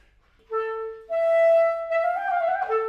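A slowed-down passage of imitation from Samuel Coleridge-Taylor's Clarinet Quintet, with sustained clear tones entering one after another and overlapping into a short layered phrase.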